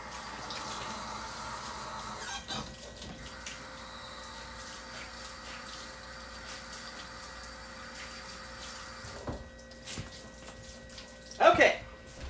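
Cold tap water runs into a kitchen sink to wet cake strips for baking, a steady low rush continuing through most of the stretch, ending with a brief louder splash and clatter of wringing near the finish.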